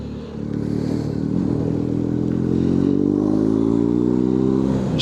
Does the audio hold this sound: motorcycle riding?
yes